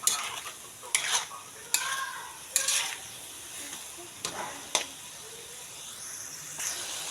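Menudo with bay leaf, pepper and fish sauce being stirred in a pan, about eight distinct scraping strokes against a soft, low sizzle, close and fairly quiet.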